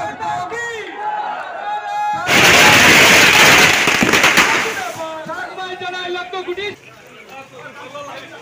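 Firecrackers burst in a dense crackling volley at a Karimganj celebration of a BJP Lok Sabha election win, lasting a few seconds between loud cheering and shouting from a crowd, with talk before and after.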